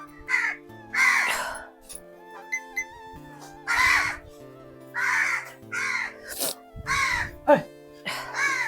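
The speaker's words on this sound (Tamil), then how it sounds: "நம்ம வீடியோ எடுக்கும் தான் இந்த காக்கா கத்துறது" A crow caws over and over outdoors, loud and near, with harsh, drawn-out calls in uneven bursts and short pauses between them.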